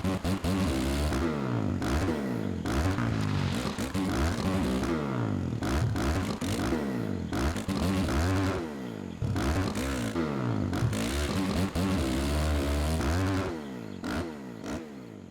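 A supercross motorcycle engine in MX vs ATV Supercross Encore during a hot lap around a nighttime compound track, loud and close, revving up and down through repeated gear shifts with steady throttle swells and brief drops.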